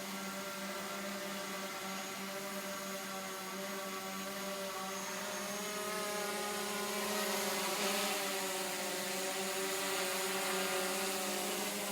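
A drone flies over a shop with a newly installed steel roof, giving off a continuous whirring hum with steady tonal whines that swell slightly partway through. It stays constant for twelve seconds with no talking.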